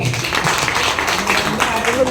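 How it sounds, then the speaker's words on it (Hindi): Participants at a company training session in Noida give the speaker a round of loud applause, steady dense clapping that continues under voices. "सर के लिए एक बार जोरदार ताली हो।"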